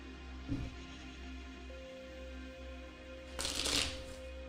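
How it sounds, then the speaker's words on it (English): A deck of cards is shuffled twice, a quick brief riffle followed by a louder, longer one a few seconds later, over a faint steady hum with no talking. "Let's give this a couple more shuffles and then we'll pull some cards."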